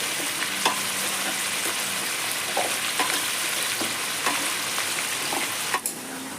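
Oil fries in a pan after eggs were fried in it, giving a steady, hissing sizzle with occasional faint taps of a spoon, close by and with no one speaking.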